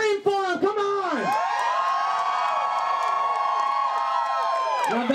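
A sideshow crowd at a glass-burial stunt screams and cheers in long, rising and falling shrieks that overlap and hold steady, with a couple of sharp whoops at the start and end.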